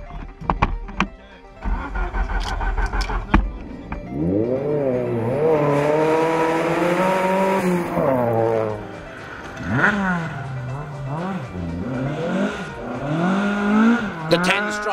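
Rally car at the Karri Rally, a loud nearby engine revving and accelerating in rising and falling sweeps, with sharp bursts and pops at the start, running continuously.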